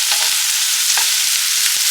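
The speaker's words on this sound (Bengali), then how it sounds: "হালকা একটু ফ্রাই হয়ে গেলে মাশরুমগুলো অ্যাড করছি।" Mushrooms frying with onion and capsicum in a pan give a steady, close, loud sizzle with a few soft clicks, and nobody speaks.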